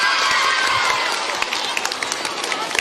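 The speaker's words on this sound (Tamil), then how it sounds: "இதெல்லாம் இந்த மேத்ஸ் டீச்சருக்கான கைத்தட்டல் தான்." Audience applause at a motivational talk, honoring a maths teacher: a dense, steady wash of clapping with sharper individual claps standing out toward the end, loud and continuous throughout.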